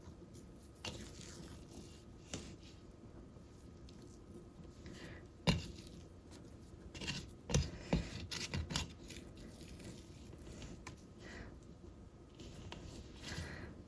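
A dough scraper is turned once around a bowl of sourdough, giving soft, quiet squishing and scraping with a few brief sticky clicks over a faint, steady background.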